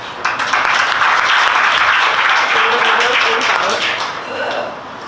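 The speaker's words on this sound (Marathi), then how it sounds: "जोरदार टाळ्या वाजवा त्याला." A crowd claps loudly and steadily at a 50th wedding anniversary celebration, a dense wash of applause lasting throughout and easing slightly toward the end.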